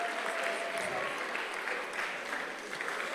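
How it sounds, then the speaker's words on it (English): Students at a boys' school applaud at the close of a mentorship session, a steady roomful of clapping at moderate distance that thins slightly toward the end, a faint tone briefly underneath. "Clap for yourself."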